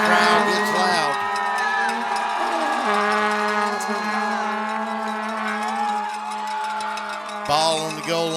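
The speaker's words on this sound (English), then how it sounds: "the crowd gets loud" A high school football crowd at a Northside versus Peach County game rising in noise during a goal line play, a dense roar of voices and shouts under a sustained tone, swelling again near the end.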